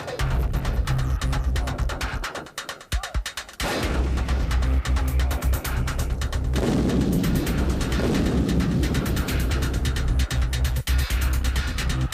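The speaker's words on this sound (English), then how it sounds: "155mm bonus artillery round." A 155mm Bonus top-attack anti-armor artillery round firing, heavy booming blasts and rolling rumble filling the scene, loud and sustained with a brief lull before the roar resumes.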